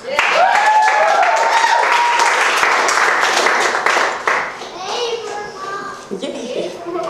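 A crowd at a Senate campaign kickoff speech claps and cheers loudly for several seconds, then the applause fades as voices and a child's chatter carry on.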